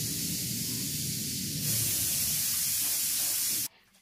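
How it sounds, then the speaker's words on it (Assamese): A spray bottle mists water onto long hair to wet it before a haircut, giving a steady, close hiss of spraying that holds for several seconds, then stops abruptly, leaving quiet room tone. "হেয়াৰ কাট কৰাৰ আগত চুলিখিনি পানীৰে তিয়াই লৈছোঁ"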